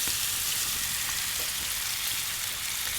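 Steak searing in hot oil in a pan over a campfire, with a steady, close sizzling and crackling fry that holds evenly throughout and no talk over it.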